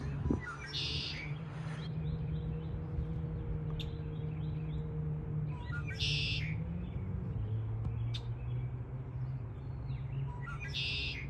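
Repeated high bird calls ring out in short bursts over a steady low hum, with a few faint clicks in between.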